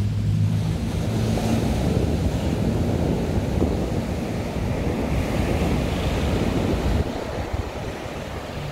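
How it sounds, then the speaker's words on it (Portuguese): Ocean surf rolls steadily onto the beach at Balneário Camboriú on a cool, windy day, a continuous loud wash of breaking waves with wind rumbling across the microphone and no talking. "As ondas."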